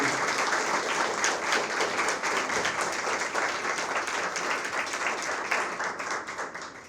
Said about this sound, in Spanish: le pido antes un grandísimo aplauso al doctor Amadeo Julián